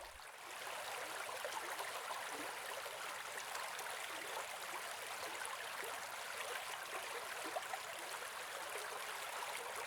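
A babbling brook flows steadily and fairly loud, a continuous bright rush of splashing, trickling water with no voices, unchanging for the whole stretch.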